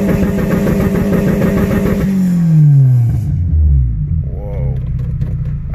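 A car engine running a 2-step anti-lag launch system revs hard at close range, then the pitch sweeps sharply down as the revs drop into a lower, rumbling idle, with a faint voice near the end.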